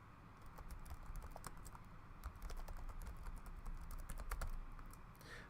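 Soft, rapid clicking of computer keyboard keys as a username and password are typed, a steady run of light keystrokes heard up close and alone, with no talking.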